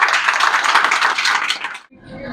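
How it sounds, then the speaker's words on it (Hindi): A near, dense burst of audience applause at a teaching ceremony at an IT institute, steady for about two seconds, then cutting off abruptly into quieter room sound. "मैं इनके लिए एक बार ताली बजाइए आप"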